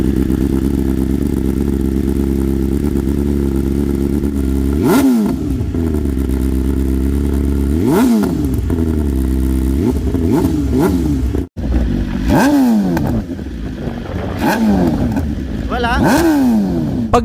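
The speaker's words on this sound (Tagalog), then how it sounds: "Pag pina-start mo na ang kanyang engine, mapapansin mo na agad na iba ang tunog nito kaysa sa ibang inline 4." BMW S1000RR inline-four motorcycle engine idling and revving repeatedly, loud and close, with rising and falling pitch sweeps over a steady rumble.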